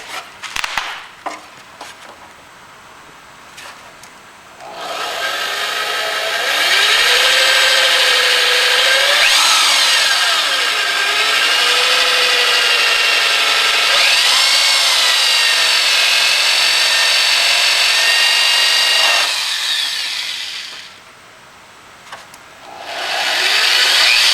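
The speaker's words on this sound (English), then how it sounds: "Let's get out the drill and start poking some holes." A power drill runs in long sustained bursts with a rising, whining pitch, boring steadily through 2009 Yamaha R1 Hotbodies motorcycle bodywork at close range, then spinning down briefly and starting again.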